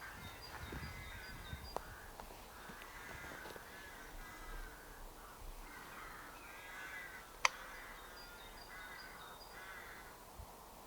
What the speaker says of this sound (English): The rooks are indeed trying to establish a nesting colony here